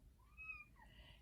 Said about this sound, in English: if you can hear her meowing.